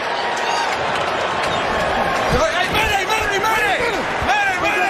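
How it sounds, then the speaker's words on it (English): An NFL game crowd roars and cheers loudly throughout, with whistles and squeaks rising out of the din and a voice talking over the noise. "listen to the crowd. It's not a big crowd, but they're fired up."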